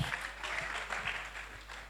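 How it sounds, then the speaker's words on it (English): Brief audience applause for a guest speaker at the NEMSA 2024 conference, a short burst of clapping in a hall over a low steady hum, fairly faint and even. "A round of applause for Daddy."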